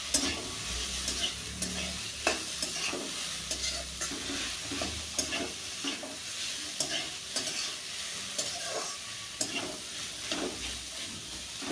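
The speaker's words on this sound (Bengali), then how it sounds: "পেঁপেটাকে একটু হালকা ফ্রাই করে নেব।" Boiled papaya pieces fry lightly in a pan for a papaya payesh, with a soft steady sizzle under repeated close scraping and clacking stirring strokes throughout.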